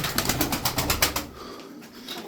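Ankara milk-white pigeons in a loft, a quick series of flaps or wingbeats for about a second, then a low, soft cooing murmur, all faint and close.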